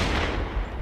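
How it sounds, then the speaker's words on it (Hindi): One gunshot sounds in a desert chase: a loud, dense blast of noise that fills the moment and then fades over under a second, with no voices. "पीछे से एक गोली चलने की आवाज सुनाई देती है,"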